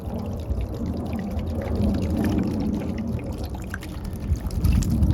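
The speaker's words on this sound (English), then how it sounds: "we're gonna pour it into the container and then put the skull in" Hydrogen peroxide being poured into a container for whitening a deer skull, a steady low gurgling pour that goes on throughout, close by and moderately quiet, growing slightly stronger toward the end.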